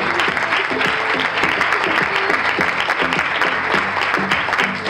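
An audience applauds the crowning of the new Reina de Turismo Veracruz 2015, steady enthusiastic clapping from a crowd, with background music tones sounding beneath the applause.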